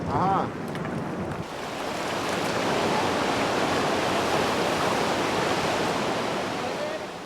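A mountain river rushes in a dense, steady broadband roar, close and loud, with a brief bump of other noise at the start.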